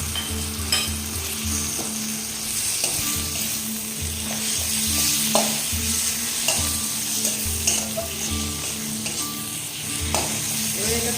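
Tomatoes, with turmeric, dried chili powder, cumin and coriander powder, sizzle and fry in a pan while a utensil stirs and scrapes through them in steady, repeated strokes, close and continuous.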